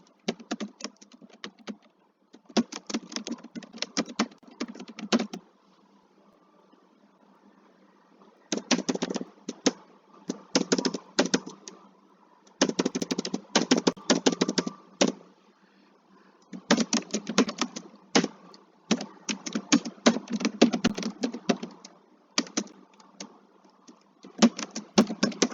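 Rapid bursts of typing on a computer keyboard, clattering keystrokes in clusters separated by short pauses, close and clear with no talk.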